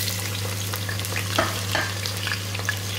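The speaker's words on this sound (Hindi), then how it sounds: "ऑयल गर्म हो चुका है। अब प्याज इसके अंदर डाल देंगे" Sliced onions frying in hot oil in a pan, a close, continuous sizzle with quick stirring scrapes throughout.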